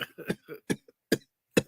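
A man coughs in a quick run of harsh, close bursts, several sharp coughs spaced out over a second and a half.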